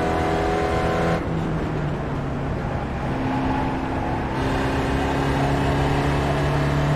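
Spec Racer Ford race car engine in the iRacing sim chugging steadily in fourth gear, a continuous loud drone with a steady low hum throughout.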